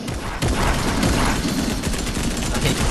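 Shotgun blasts in Fortnite mixed into a loud, busy stretch of gunfire, with heavy booming shots and a sharp report near the start, all close and dense with no clear speech.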